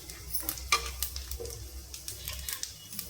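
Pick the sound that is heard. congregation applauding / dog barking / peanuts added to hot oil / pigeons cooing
peanuts added to hot oil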